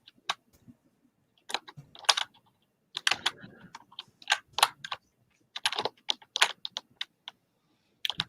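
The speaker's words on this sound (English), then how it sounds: "Is your by the way, microphone sitting on your keyboard?" Someone types on a computer keyboard in irregular bursts of close, crisp key clicks separated by short pauses, with no talking.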